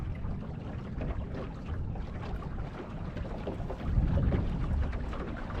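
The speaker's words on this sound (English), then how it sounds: "we've got everything ship shape and we're under full sail" A sailing dinghy under full sail in light easterly wind near Macleay Island, South East Queensland, with a steady wash of water along the hull and wind buffeting, swelling louder toward the end.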